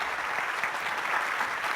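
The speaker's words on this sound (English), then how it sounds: "Let's give a round of applause to all our presenters today." Audience applause for presenters at a voting rights panel event, a steady wash of clapping from a crowd that holds even throughout, moderately distant and with no voices over it.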